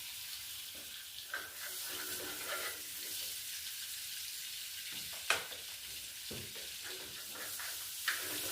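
Butter and white oil heat in a wok with a soft, steady sizzle throughout, broken by a few brief clinks and splashes; there is no talking.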